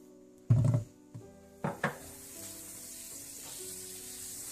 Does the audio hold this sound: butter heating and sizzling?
yes